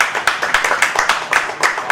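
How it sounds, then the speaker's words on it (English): Crowd claps for a team of cooking assistants called out onstage, a dense, steady round of applause with rhythmic peaks, close and loud, with faint voices underneath. "Let's give them a round of applause."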